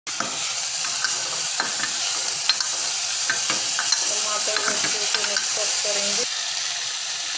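Potatoes and tomatoes for an onion aloo tomato sabji sizzle in a pan while being stirred, with a constant close frying hiss and a series of soft scraping strokes throughout.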